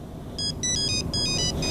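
A mobile phone rings with a bright electronic ringtone, a few short melodic bursts repeating close by over a low background hum.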